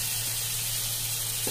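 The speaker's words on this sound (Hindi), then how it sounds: "अब लो फ्लेम पे मैं पकाऊंगी, क्योंकि बटर डाला है" Chopped onion frying in butter for pav bhaji, a brief, steady, even sizzle over a low hum.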